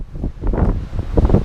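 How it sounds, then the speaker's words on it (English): Strong wind buffets the microphone on the open deck of the Royal Caribbean cruise ship Quantum of the Seas, a loud, gusty low rumble pulsing unevenly throughout. "while it's really windy, you may not hear me"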